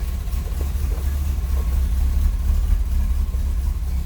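A 1969 Pontiac Firebird's engine runs steadily at idle, a continuous low rumble close by with no voices.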